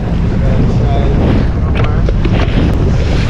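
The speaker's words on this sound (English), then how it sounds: "The wind sucks, but it's really windy." Strong wind roars and buffets the microphone nonstop at a Hawaii surf spot, with waves and rushing water beneath it and no pause in the gusts.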